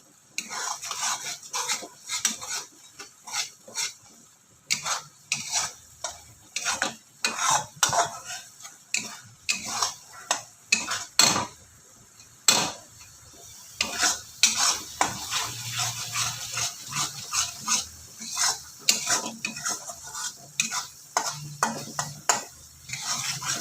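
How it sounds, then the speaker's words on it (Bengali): Masala spices being stirred and fried in a pan, a spoon scraping and clanking against the metal in uneven bursts over a faint background sizzle, close by with no talking. "ভালো করে কষাতে হবে মশলাটা।"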